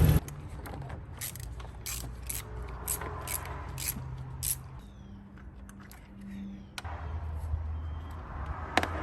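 Ratchet working spark plugs out of a Mercedes W140 car engine, a series of quick clicking ratchet strokes in short bursts with brief pauses, close and fairly quiet, with no talk.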